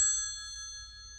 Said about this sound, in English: What's that ringing? Oh, it's only my private telephone.